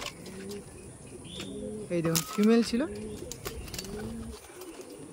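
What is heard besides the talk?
Madrasi pigeons cooing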